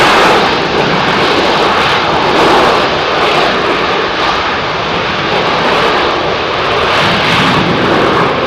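Airliner landing on runway 09L at London Heathrow with heavy thrust reverser action, a loud, sustained broadband engine roar that swells and holds steady throughout, with no voices.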